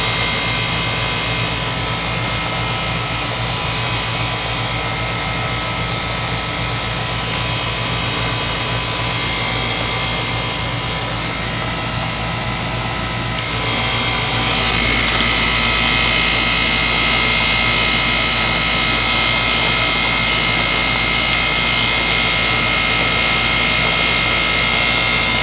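A 2004 Goodman 10 SEER 3.5-ton heat pump running outdoors in 90°F heat, giving a loud, steady whooshing fan drone with a constant hum, which grows a little louder and fuller about halfway through.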